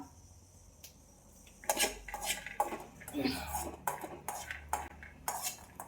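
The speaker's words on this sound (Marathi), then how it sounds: "आम्ही हे करतो ना शेंगदाणे भाजतो बघा" Peanuts being dry-roasted in a metal pan in a home kitchen, with a run of clattering scrapes and rattles of the utensil against the pan that start after a quiet opening and repeat unevenly, close and moderately loud.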